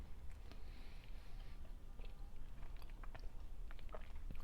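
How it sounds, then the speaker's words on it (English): Close, quiet chewing and biting of breakfast food, soft crunchy mouth sounds repeating irregularly over a low steady background. "ASMR eating breakfast?"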